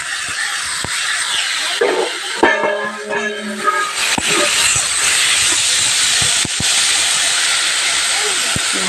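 Fish and raw onion fry in hot oil, a loud, steady, close hiss that runs throughout, with a voice speaking briefly partway through.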